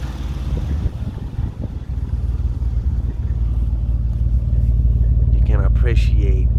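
A Honda J37A1 V6 fitted with Brian Crower camshafts runs at a steady, loud, deep idle that rises slightly in level, with a voice briefly speaking over it near the end.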